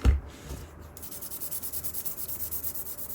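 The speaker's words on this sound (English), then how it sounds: "This is harder to scrub because the antenna is just bending." Steady, rhythmic rubbing strokes as the rubberized antenna of a vintage Standard C110 handheld 2m transceiver is scrubbed, with a brief louder knock at the start and then even, close scrubbing without talk.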